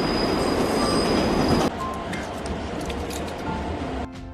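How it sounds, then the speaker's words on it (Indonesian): A train rushes along the tracks with a loud, steady rumble of wheels on rails, and a faint squeal rises above the roar. "kereta melaju kencang tanpa seorang masinis"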